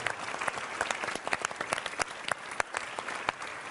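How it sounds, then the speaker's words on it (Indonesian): Audience applause at a talk show honoring a guest, a dense, steady patter of many hands clapping close by, continuing throughout with sharp individual claps standing out. "Kita berikan tepuk tangan untuk abangku sayang, Abang Ruhut Sitompul."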